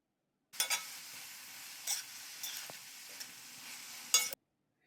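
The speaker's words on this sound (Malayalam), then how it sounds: "നമുക്ക് അരിഞ്ഞു വെച്ചിരിക്കുന്ന പച്ചമുളകും കൂടി അതിലേക്ക് ഇട്ട് കൊടുത്തിട്ട് നന്നായി ഒന്ന് വഴറ്റിയെടുക്കുക" Onions and green chilies sauté in a pan for mushroom biryani, giving a soft, steady sizzle broken by a few close scrapes and clinks of a stirring utensil.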